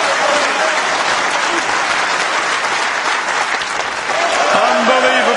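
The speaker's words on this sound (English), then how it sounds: "what a reception Ronnie O'Sullivan gets from this Crucible crowd" A Crucible crowd applauds a Ronnie O'Sullivan snooker break, a loud, steady wall of clapping with crowd noise that holds for several seconds, overlaid by a commentator's voice.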